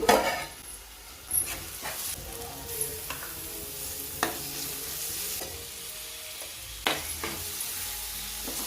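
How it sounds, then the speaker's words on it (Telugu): Onions sizzle in a hot pan with a little salt for a cauliflower and tomato curry, a steady close frying hiss broken by several scraping stirs of a utensil against the pan, with no voices. "ఉల్లిపాయలు వేసుకోవాలి, ఇందులో కొంచెం ఉప్పు వేసుకోవాలండి. బాగా వేగితే మగ్గనివ్వాలండి."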